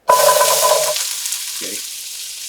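Asparagus hitting scary-hot oil in a wok with a loud, sudden sizzle that then settles into a steady hiss, with a brief low clatter midway and a short spoken word near the start.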